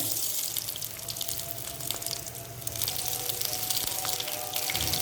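Green chili pakoras fry in a pan of hot oil, giving a steady, dense crackle and hiss that runs without pause and with no voices.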